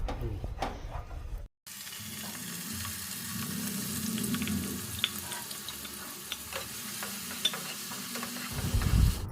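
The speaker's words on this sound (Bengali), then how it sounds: "একজন শুধু খুন্তি নাড়ছে" Shrimp and pointed gourd curry sizzles in a hot pan while a spatula scrapes and stirs with scattered clicks, after a brief moment of silence near the start.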